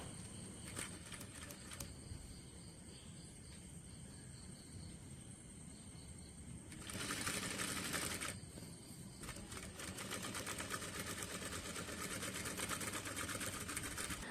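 A tailoring sewing machine stitches a folded fabric hem, running in a fast mechanical whir that stops and restarts, louder in bursts near the end, with no talk over it.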